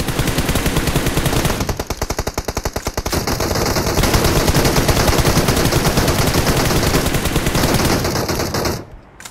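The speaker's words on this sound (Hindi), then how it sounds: "हमें लेफ्ट से भी शॉट आए थे" Loud, rapid automatic gunfire from the battle royale game PUBG, sustained bursts crackling for most of the stretch with a brief easing near the start and an abrupt cutoff at the end, no talk over it.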